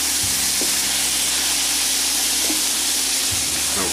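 Fresh tomatoes hiss in a pan with sautéed eggplant and onion for a frittata, making a loud, constant close sizzle, with a few faint clicks from a utensil.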